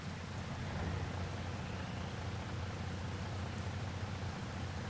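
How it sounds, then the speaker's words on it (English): Rain falling in Farming Simulator 25 on the Judith Plains, Montana map after a hailstorm: a dense, even roar of downpour with a low rumbling undertone, steady and loud throughout with no voices. "Alright, it's just raining now."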